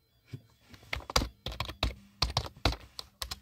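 A short run of keyboard key presses entering a PIN code, close and quiet, tapped in an uneven rhythm with a few firmer strikes.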